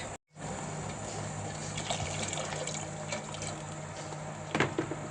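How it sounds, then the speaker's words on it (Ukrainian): Hot marinade poured from a pot over black milk-cap mushrooms layered with leaves in glass jars, a steady liquid splash running continuously at close range after a brief silent start, with a few louder gurgles near the end. "заливаємо маринадом наші гриби"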